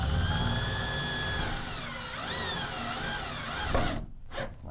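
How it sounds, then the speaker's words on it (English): A power drill with a 3 1/4-inch hole saw cuts through a fiberglass shower wall in a loud, steady whine that shifts pitch under load, then stops abruptly near the end. "we're going to drill just through the shower"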